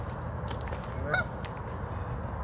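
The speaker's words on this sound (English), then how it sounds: "And they got, geese." Geese honk a few times at moderate distance, with a brief louder call in the middle over a soft outdoor background at a lakeside RV park, goslings nearby.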